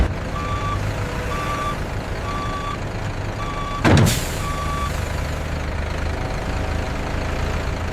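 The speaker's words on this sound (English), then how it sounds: "The transport truck carrying the raw cotton undergoes meticulous inspection." A transport truck hauling raw cotton idles with a steady heavy engine rumble while its reversing alarm beeps in an even, repeating rhythm, and a sharp hiss of air brake releases midway.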